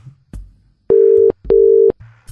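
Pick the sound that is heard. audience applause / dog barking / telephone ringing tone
telephone ringing tone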